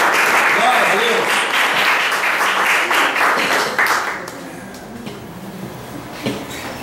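A congregation applauding in church, a loud, dense burst of clapping with voices mixed in that fades after about four seconds, leaving quieter room noise and a few scattered sounds.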